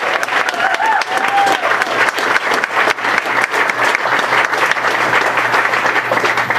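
Audience applause after a Scottish fiddle performance at the BCMFest music festival, a dense, steady clapping that fills the whole stretch at close range with a few cheers mixed in.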